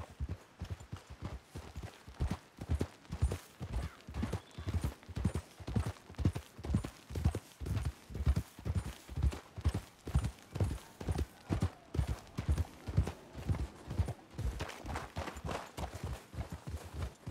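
Horses' hooves clip-clop at a steady walking pace in the Red Dead Redemption video game, a long even run of close, distinct thuds on hard ground with no talk over them.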